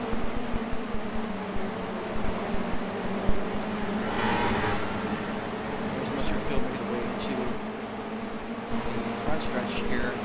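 Formula BMW open-wheel race cars in a racing video game, a continuous engine drone with fluctuating revs and brief bursts of higher whine, partly under someone talking.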